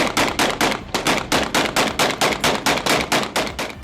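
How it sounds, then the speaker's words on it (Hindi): Rapid, steady bursts of celebratory gunfire in Syria crack out in a relentless rhythm, close and loud, about five shots per second with no pauses. "कुछ इलाकों में जश्न में गोलियां भी चलाई गईं"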